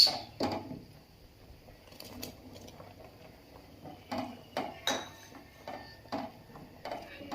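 A spoon scrapes and clinks softly in a pot of rice pudding (payesh) with cashews and raisins, in a run of irregular stirring knocks and taps.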